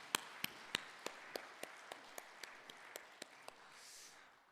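A church congregation at a Sunday Christmas worship service claps in a slow, sparse run of about a dozen distinct, evenly spaced claps, faint and roomy, with a soft wash of noise near the end.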